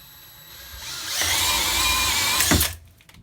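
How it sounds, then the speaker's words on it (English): An Irwin 5/8 inch speed bore spade bit is driven at high speed by a DeWalt 20 volt cordless drill through pine 2x4. The motor whines up, grinds steadily through the wood, then winds down once it breaks through. "This is an Irwin 5/8 inch speed bore bit."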